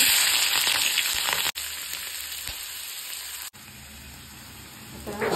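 Mustard seeds and chili spatter in hot oil for a tempering, a loud, close, continuous crackling sizzle with small pops, broken by two brief cuts.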